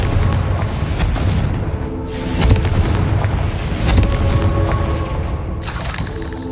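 Repeated heavy blasts from the Confringo fire spell in Hogwarts Legacy, a steady rumbling barrage of booms and bursts that swell and fade over continuous game ambience.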